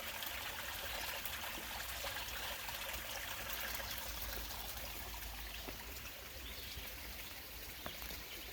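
A tiny creek trickles and babbles steadily, a close, continuous hiss of running water with small splashes throughout and no talking.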